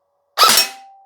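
One loud, close shot from a BARRA Black Ops M4 Viper MK5 airsoft AEG rifle sending a BB through a velocity check, preceded by a brief quiet moment and followed by a faint lingering ring.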